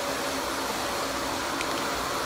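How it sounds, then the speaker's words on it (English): A vacuum cleaner runs while cleaning a room, a steady, fairly close whooshing roar with an even airy hiss and no change in pitch, heard alone without talk. "My bro is gonna vacuum clean this whole room."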